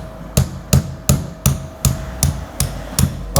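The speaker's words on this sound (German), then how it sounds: "Hast du einen Hammer da?" Nine sharp hammer blows strike a Tesla control arm in a steady, evenly spaced rhythm, close and clear against a quiet workshop background.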